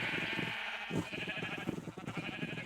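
A large flock of sheep in the video game Minecraft bleats continuously, many overlapping wavering calls layered together at moderate loudness, with no speech.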